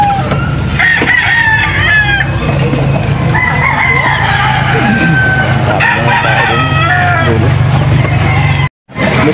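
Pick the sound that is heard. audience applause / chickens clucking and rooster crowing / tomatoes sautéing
chickens clucking and rooster crowing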